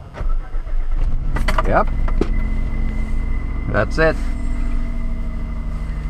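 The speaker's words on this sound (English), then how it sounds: "Okay, so I'm gonna start the car." A car that sat overnight in winter cold is started, its engine catching and then settling into a steady, low idle that continues throughout, with brief talk over it.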